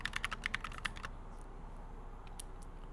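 Typing on a Glorious Panda mechanical keyboard plays back from a review, with a quick run of crisp clacking keystrokes that stops after about a second, leaving quiet room noise.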